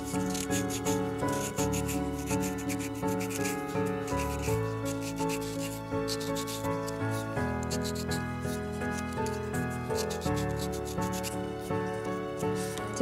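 A miniature bowl is rubbed with 400-grit sandpaper in quick, regular back-and-forth strokes, a close, soft scratching rhythm that runs throughout beneath background music.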